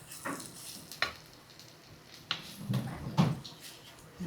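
Spices with chili and pepper sizzle in hot oil for tempering, with soft crackling and a few sharp clinks and stirring taps at a quiet, close level.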